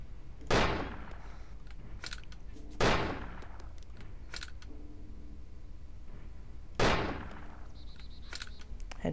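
Three sharp single gunshots from the video game DayZ, each a loud crack with a brief decaying tail, spaced a few seconds apart over quiet background noise.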